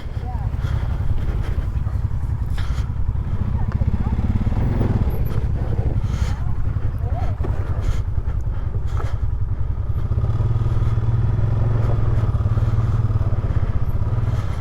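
A 2022 Polaris Sportsman 570 ATV in low four-wheel drive climbs a slippery slope. Its engine holds a steady, loud rumble at close range with occasional clatter and scrapes, and someone talks over it.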